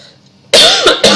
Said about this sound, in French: Je tousse, je pleure.